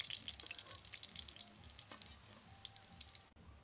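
Teasel gourd (kakrol) patties frying in a pan with a continuous crackling sizzle and bright spitting pops, interrupted by occasional stirring and scraping touches, close and steady throughout.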